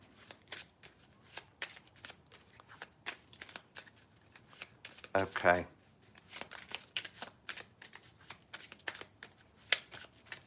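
Playing cards are shuffled close by in quick riffling bursts, with a louder flurry in the middle and a brief spoken word.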